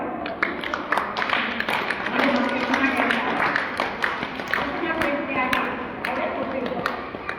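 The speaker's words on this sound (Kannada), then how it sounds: "ವೆರಿ ಗುಡ್ ಮಕ್ಕಳ, ಹಾಗೆ ಒಂದು ಚಪ್ಪಾಳೆ" Children give a round of applause, light, scattered clapping rising and falling for several seconds while a voice talks over it.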